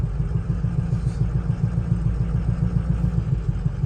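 Diesel engine of a budget mud truck being power-braked under load, a steady close, loud, rapid rhythmic low chugging throb held evenly throughout with no talk.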